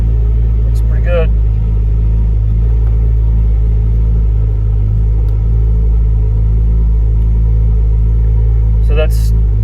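A Porsche 997.2 GT3 flat-six fires up and settles into a steady, loud, close idle with a deep constant rumble, while a brief higher whine or chirp appears near the start and again near the end.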